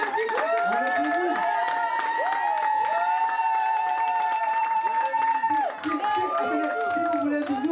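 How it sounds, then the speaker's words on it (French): Wedding guests in Trémentines, France clap and cheer as one loud, continuous crowd, with strong voices and tonal chanting or singing carried over the applause throughout. "Allez, on l'applaudit!"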